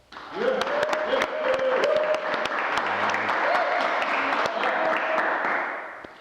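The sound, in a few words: round of applause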